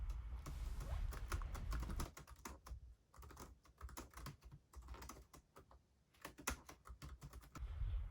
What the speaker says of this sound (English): something just not good about that keyboard